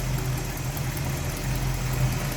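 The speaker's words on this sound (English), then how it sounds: "it's a smooth running 327 small block Chev" A smooth-running 327 small block Chevrolet V8 with camelback heads and an Edelbrock carb idles in a 1947 Ford Deluxe Convertible street rod, a steady low rumble with even pulsing, close and alone.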